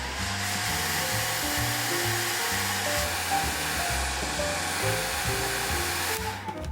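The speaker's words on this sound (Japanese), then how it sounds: "ちょっとドライヤーで温めます。" Hair dryer blowing steadily and close for several seconds, warming masking tape on a watercolor pencil drawing, a constant whooshing hiss with a low motor hum, no talking.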